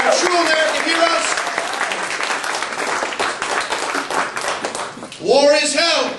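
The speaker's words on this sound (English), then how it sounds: "Round of applause for our troops, ladies and gentlemen, our troops." An audience applauds the troops at a live comedy show, loud sustained clapping and cheering that swells toward the end, with a voice audible over it.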